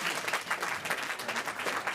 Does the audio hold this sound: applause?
yes